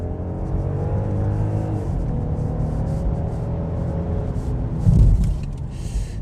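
Genesis GV80 3.5-litre, 380-horsepower SUV accelerating in sport mode, heard from inside as a steady low engine rumble with road noise that swells briefly near the end, no talking.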